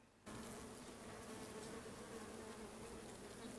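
Bees forage among lavender flowers on a farm, their buzzing close and continuous with a steady hum after a brief quiet start.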